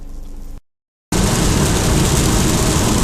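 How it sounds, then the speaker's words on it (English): Extremely heavy rain pounds a car driving through southern Minnesota, a loud, dense roar that drops briefly into silence before crashing back in full force. "It's been raining pretty much as hard as it can possibly rain for the last couple hours"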